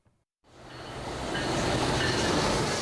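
A freight train rumbles along railroad tracks, rising from silence into a steady, loud roar of rolling wagons with faint wheel squeal and clatter, continuous and close with no talk.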